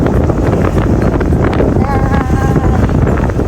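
Steady, loud wind buffets the microphone throughout on a road trip through northern Thailand, roaring low rumble with a faint tonal whine partway through and a voice briefly mixed in.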